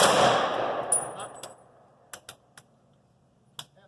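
Rifle volleys at a memorial salute: a loud opening blast fades, then several sharp, separate cracks ring out with short gaps between them, like distant shots across an open outdoor ceremony.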